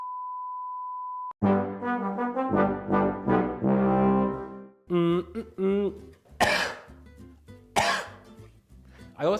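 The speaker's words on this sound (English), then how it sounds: "I also have a cough as well as hay fever" A steady beep gives way to several harsh, bursty coughs and throat-clearing sounds, close and loud, with some voice sounds mixed in.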